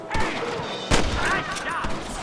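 Gunshots crack during a Red Dead Redemption shootout, one sharp loud blast standing out among scattered shots, with other voices shouting over the action.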